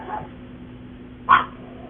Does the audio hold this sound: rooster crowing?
no